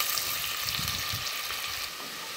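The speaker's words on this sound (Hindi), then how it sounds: "अब इसमें प्याज डालना है। प्याज को लाइट ब्राउन करना है।" Onions frying in hot oil in a pan while cooking an achari mutton curry, giving a steady, dense sizzle with soft crackle throughout and slight stirring movement, close and continuous with no voices.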